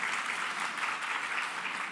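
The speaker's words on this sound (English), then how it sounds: "Can you give him a big round of applause?" An audience applauds a graduate of Delta Senior at a special-education vocational syllabus launch ceremony, a steady, dense wash of many hands clapping that holds evenly throughout with no voices on top.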